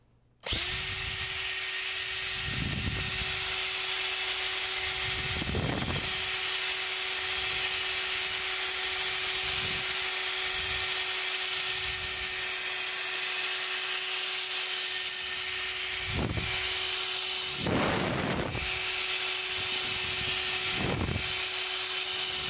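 A power drill with a mixing paddle stirs Monstaliner bed liner coating for a 1989 Cherokee's floor pans, running as a loud, steady whine for about twenty seconds with brief bumps and surges.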